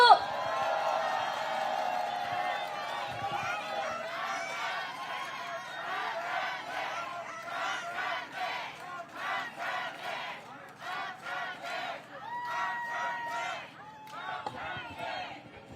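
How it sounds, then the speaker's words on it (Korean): A crowd at an outdoor election campaign launch rally in Incheon cheers and whoops as a speaker is welcomed, with loud voices and shouts rising over steady noise and a voice on a loudspeaker. "여러분 큰 박수로 맞이해 주십시오."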